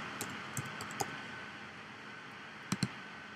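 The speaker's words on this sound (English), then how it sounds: "What I was doing was just typing the word marker" Computer keyboard typing comes through as a handful of sparse, light key clicks, a few scattered early and a quick pair near the end, faint and close against a quiet background hiss.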